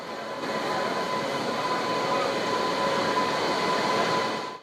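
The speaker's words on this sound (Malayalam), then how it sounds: "റെയിൽവേയുടെ ഉദയ് എക്സ്പ്രസ് സീരീസിലെ ആദ്യ double decker AC chair car ട്രെയിനാണിത്" The Uday Express double-decker AC chair car train on its trial run toward Palakkad from Coimbatore makes a steady, even rumble and rush that holds for several seconds without voices.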